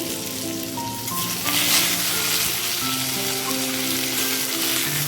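Potatoes and tomato fry in a pan, a loud, dense, continuous sizzle and crackle with a brief surge partway through, steady and close with no voices.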